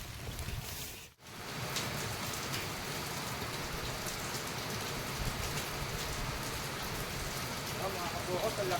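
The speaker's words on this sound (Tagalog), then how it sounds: "Ulan na mga kabukals." Heavy rain pours down steadily close by, a dense hiss with a brief dip near the start, and it stays constant throughout with no clear voices over it.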